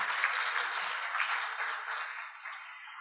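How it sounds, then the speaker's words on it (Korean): Audience clapping after a student presentation at a finance forum, a steady patter of many hands heard from some distance, slowly thinning out over a few seconds with no voices. "큰 박수 부탁드리겠습니다"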